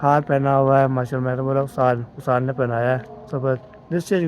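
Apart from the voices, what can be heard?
None of the usual background noises is heard.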